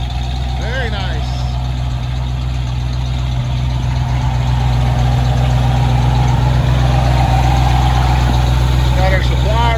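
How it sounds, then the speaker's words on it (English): A truck engine idles on fuel fed from a jug through a bypassed pump, a loud, steady, low rumble running throughout, with a person talking over it. "it would sit there and idle out a gallon of gas if I wanted it to"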